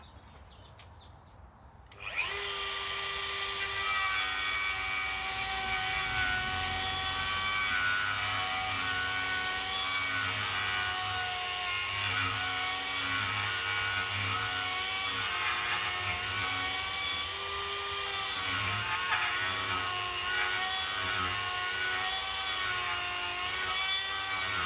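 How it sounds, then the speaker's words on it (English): A Dremel rotary tool fitted with a drum sander grinds steadily against the wood of a lyre mandolin, a close, continuous high-pitched whine with rasping friction that starts abruptly after a quiet moment and runs unbroken. "I actually prefer to do this with a Dremel, just with a drum sander on it."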